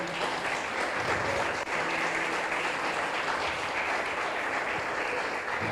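Strong, sustained applause from a church congregation, the many hands clapping loudly and evenly throughout, with a brief dip partway through.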